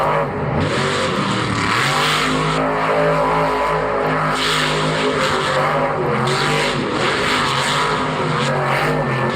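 Monster truck engine at a Monster Jam show in Orlando, roaring and revving loudly and steadily throughout while the truck spins donuts, with a broad, sustained arena-filling drone that rises and falls slightly.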